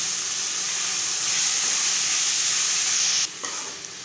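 Sliced carrots and beans sautéing on a medium flame for a carrot-bean rice lunch box dish, giving a continuous bright hiss-like sizzle that drops away abruptly near the end.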